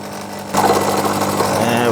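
Small machine tool, likely a lathe, spinning at about 800 RPM as the cutter touches off a workpiece for a miniature finger engine: a steady mechanical whir that steps up louder partway through and holds under a faint voice.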